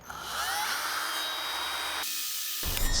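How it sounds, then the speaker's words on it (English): Drill running at low speed while boring out a DIY Solo Stove, with a steady whining grind and a brief break before it starts up again, close and loud. "So I'm gonna try and drill this out a little more slowly."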